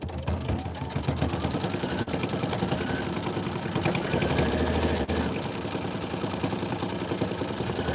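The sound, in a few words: embroidery sewing machine stitching the tack down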